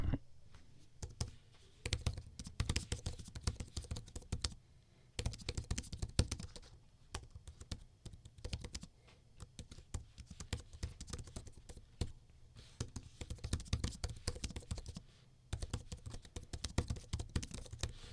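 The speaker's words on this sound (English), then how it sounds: "the keyboard sounds pretty good. Take a listen to this." Steady, soft typing on a Samsung Galaxy Tab S8 Ultra keyboard, a quick run of light key taps with brief pauses, close and quiet, no voices.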